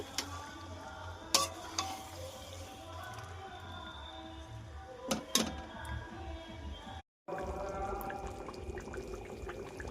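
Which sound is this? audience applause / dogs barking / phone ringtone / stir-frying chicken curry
stir-frying chicken curry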